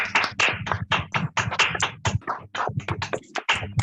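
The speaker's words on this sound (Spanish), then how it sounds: "para poder darle un aplauso a nuestra compañera como medio de decirle muchas" Several people in a virtual group meeting clap into their microphones, giving close, dry, uneven claps that overlap irregularly and briefly thin out before picking up again.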